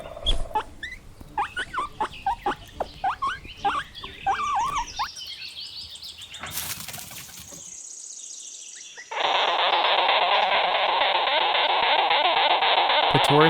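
A guinea pig on a farm squeaks in a quick run of high, chirping calls for about five seconds, followed by a lull and then a steady, loud broadband hiss.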